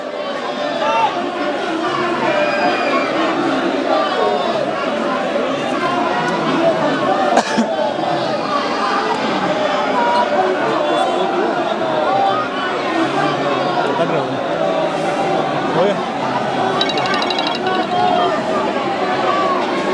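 Dense chatter from a large crowd of street protesters demanding justice in a murder case, a continuous babble of many voices with occasional louder shouts throughout.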